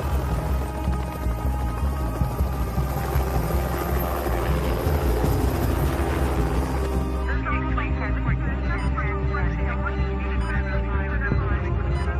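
A helicopter in an action film makes a loud, throbbing rotor hum that stays constant near the listener. A voice speaks over it.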